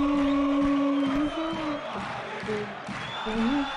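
FC Porto ultras, the Super Dragões, sing a loud sustained chant in a stadium, the mass of voices holding a melodic line, with a nearby voice joining in over the crowd.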